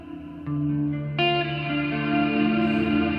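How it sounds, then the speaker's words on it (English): Electric guitar notes ring out drenched in heavy reverb from a Meris Mercury X pedal with its mix knob fully up, chords blooming and sustaining into a thick, washy tail with no voices. "That could be overkill if you're playing and you don't want that overload of reverb."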